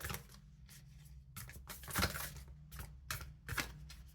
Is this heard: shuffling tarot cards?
yes